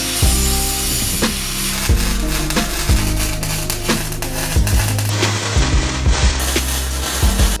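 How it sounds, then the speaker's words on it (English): An angle grinder smooths the welds on a metal guitar pedal board frame, a loud, rough, continuous grinding close by with repeated pulses as the disc bites and eases off the steel. "I'm gonna clean this up just a little bit with the grinder"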